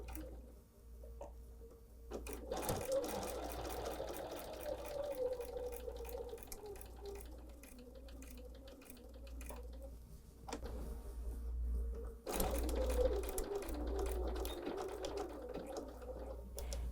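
A sewing machine stitching a quilted morning star hot pad, with short runs of steady rhythmic whirring broken by brief pauses to pivot the fabric, close and moderately loud.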